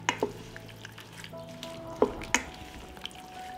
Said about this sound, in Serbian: Promešam i nastavljam da pržim.